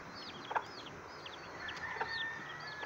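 Soft hen clucks with high, thin peeps from one- or two-day-old chicks scattered throughout, fairly close, over a quiet outdoor background.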